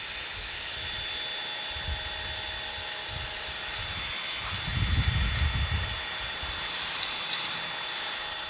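Steady broadband hiss of a pressure washer running continuously, with low rumbling bursts as the stream hits the sidewalk nearby.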